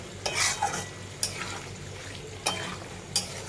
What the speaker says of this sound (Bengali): এবার একটু ভালো করে নাড়িয়ে চালিয়ে দেব।